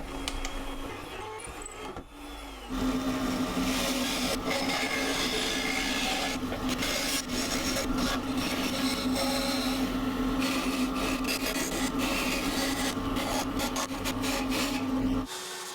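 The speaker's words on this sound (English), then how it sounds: "So I'll drill these holes first" A power drill whines steadily boring 8 mm holes through wood for a long stretch, a continuous grinding drone with brief rough scraping at the start.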